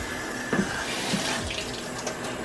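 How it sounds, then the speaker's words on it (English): A quarter of a white onion and a Scotch bonnet pepper rinsed under a running kitchen tap, a steady close stream of water with a few soft splashes and knocks as the vegetables move under it. "And we always rinse these things."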